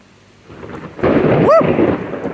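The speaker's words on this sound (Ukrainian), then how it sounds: "Це дощ." A loud crack and rumble of thunder rolls in on a scorching hot day, opening quiet and then swelling into a heavy burst over the hiss of rain, with a brief whistling tone mixed in.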